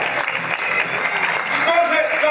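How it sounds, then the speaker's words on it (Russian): Audience at a KVN comedy league game applauds in a sustained, dense burst, with an announcer's voice speaking over the clapping. "Аплодисменты, друзья, Евгению Зайцеву."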